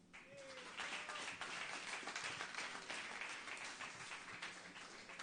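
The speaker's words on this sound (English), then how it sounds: "please give them also a warm round of applause" An audience in a hall gives a warm, sustained round of applause for the sponsors at the Imagine International Final 2018, a steady dense clapping that fills the whole stretch.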